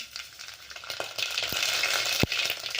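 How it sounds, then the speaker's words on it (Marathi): Mustard seeds crackle and spit in hot oil, a steady sizzle broken by a few sharp, loud pops. "मस्त तडतडीत असं फोडणी टाकायची आहे आपल्याला ह्या भाजीला. त्यासाठी मी 1 चमचा मोहरी टाकणार आहे"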